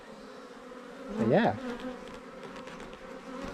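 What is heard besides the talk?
honeybees buzzing at the front of a hive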